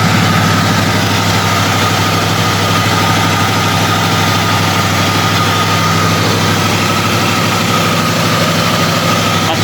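A 1961 Cadillac DeVille 390 engine idles steadily at a fast run-in speed around 1500 RPM, a loud, even, continuous drone with deep rumble and vibration throughout, no talking.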